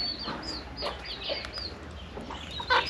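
Chickens cluck and chirp in a steady, busy stream, several birds close by with a louder squawk near the end, no talking.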